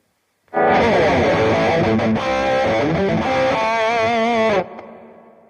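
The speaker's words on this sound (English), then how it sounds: "earlier I created a high gain distortion on slot number 2" A heavily distorted electric guitar played through a Boss OD-20 pedal on a high-gain distortion setting rings out loud and sustained for about four seconds, chords and notes thick with crunch, then cuts off into a fading tail.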